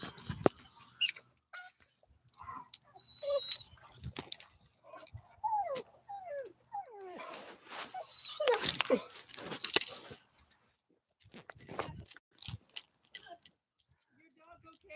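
A dog outdoors gives several thin, high whimpers in short bursts, fairly faint, mixed with jangling keys, rustling and occasional voices.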